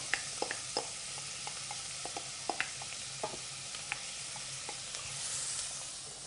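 Onions sizzle in browned butter in a saucepan, a steady frying hiss broken by scattered small pops and crackles, close and fairly quiet with no voices.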